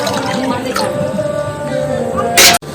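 Water poured into a cooking pan (kadai) on the stove for boiling telakucha (ivy gourd) fruit, a brief bright splashing rush near the end over steady kitchen background noise.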